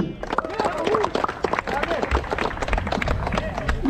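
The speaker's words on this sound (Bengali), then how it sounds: "সবাই একসাথে একটু তালি দেই।" A crowd at a football ground opening event claps to welcome the national football team captain, a steady patter of many hands with a murmur of voices, while someone speaks over it on a microphone.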